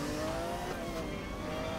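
A car accelerates in Need for Speed Most Wanted, its engine holding a steady, moderately loud drone with a rising whine throughout, and no voices over it.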